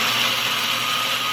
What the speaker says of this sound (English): You can blend it until it's smooth and then add the salt afterwards.